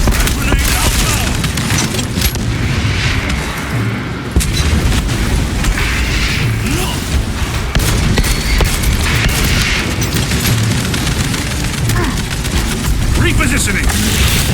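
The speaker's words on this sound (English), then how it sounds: "Grenade out now." Grenade blasts and sustained gunfire from a max-difficulty Warhammer 40,000: Space Marine 2 battle, loud and continuous booms and bursts throughout with a voice speaking over the chaos.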